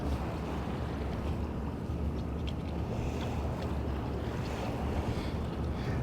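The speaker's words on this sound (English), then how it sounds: "It's cold and windy out here." Strong, cold wind roars and buffets the microphone continuously beside a truck on a British Columbia highway, a dense, steady rush with no speech.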